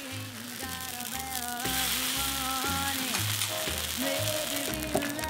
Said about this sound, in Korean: 종이장처럼 납작한 만두가 달군 철판에 올려져 구워지는 소리부터 아주 맛깔납니다.